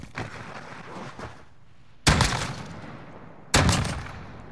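Video-game gunfire in a tactical shooter match: a few sharp, loud shots, the clearest two landing about a second and a half apart, each trailing off with a short echoing tail.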